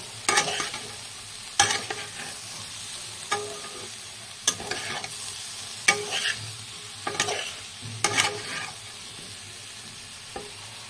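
Paneer and soybean stirred in a pan: a soft, continuous sizzle broken by about eight distinct spatula scrapes and clinks, roughly one every second or so, close up with no voices.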